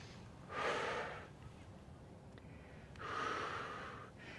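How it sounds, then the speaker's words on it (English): Two slow, deep breaths during a stretching exercise, each a loud, breathy rush of air lasting nearly a second, separated by a quiet pause, close to the microphone. "Breathing deeply."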